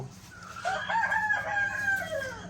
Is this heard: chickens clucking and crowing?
yes